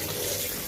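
Water from a kitchen tap runs steadily over drained kidney beans in a colander, a close, even hissing splash with no break and no talk.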